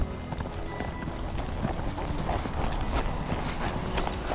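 A mare running on open ground during cattle roundup work in the bush, hooves clip-clopping in a quick, steady galloping rhythm that is close and fairly loud throughout.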